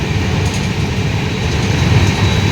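Bikaner Howrah Superfast express running at 110 to 120 km/h, heard from inside as a loud, continuous low rumble and roar of wheels on track, with no talking.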